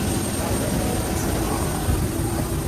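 A STARair airliner's engines hum and whine steadily while passengers board for a Mumbai to Solapur flight, a continuous moderately loud drone with faint background voices.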